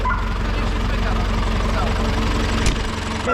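A steady, low tractor engine idle rumbles throughout, constant and close, with a brief sharp knock near the end.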